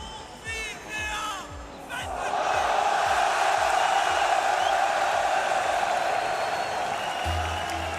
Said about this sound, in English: Home crowd doing everything they can in their power to rally their man.